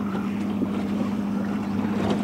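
A motorboat's outboard engine pushing the hull up to plane on open sea, a loud steady drone mixed with wind buffeting and water rush, close and continuous.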